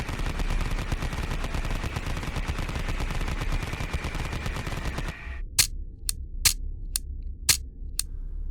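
Shots at pop-up targets in a video game shooting-range training, heard as about six sharp, loud single gunshots spaced irregularly after several seconds of steady game background noise.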